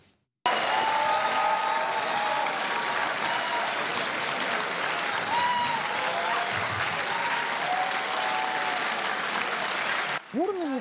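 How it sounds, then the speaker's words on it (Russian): Prolonged, loud applause from a hall of university students at Abkhaz State University greeting a Russian deputy prime minister, a dense unbroken roar of clapping throughout, with a newsreader's voice faintly over it and briefly at the end. "Бурными и продолжительными аплодисментами студенты Абхазского государственного университета приветствовали заместителя председателя правительства Российской Федерации Виталия Мутко."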